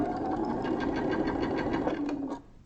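A sewing machine runs steadily while stitching a quilt block, a close, loud, continuous motor whir with rapid needle rhythm that stops abruptly near the end, with no one talking over it.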